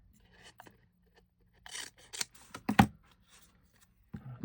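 Scissors snip through card stock while making handmade batch cards, a few quiet, separate cuts and rustles with soft handling noises between them, close and alone.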